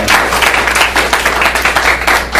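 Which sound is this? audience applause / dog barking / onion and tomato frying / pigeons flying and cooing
audience applause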